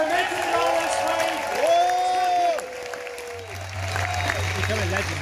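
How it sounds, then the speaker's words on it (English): A crowd at the Restore Nature Now march in London applauds and cheers in a broad, steady wash, with raised voices and shouts cutting over it throughout. "Give yourselves a thunderous round of applause for making it all this way"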